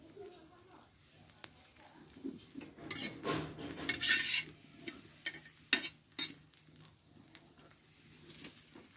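An egg and flour batter snack fries in a pan, with soft sizzling, scraping and clinking of a spoon or spatula against the pan, faint and intermittent with quiet stretches.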